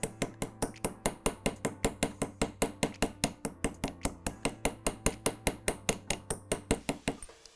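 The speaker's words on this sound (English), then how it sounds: "texturize your metal blanks with a bench block and the ball peen side of your chasing hammer" A ball peen chasing hammer taps steadily on a metal blank resting on a bench block, about four quick, bright metallic strikes per second, close and even, repeating for several seconds before stopping.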